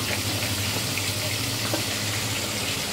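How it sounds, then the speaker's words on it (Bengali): Chitol fish muitha (fish dumplings) frying in a kadai for a Bengali dish: a steady, close, continuous hiss and sizzle runs unbroken through the whole clip, with faint crackles and no talking. "কড়াইয়ের মধ্যে ভাজা হচ্ছে এখনো"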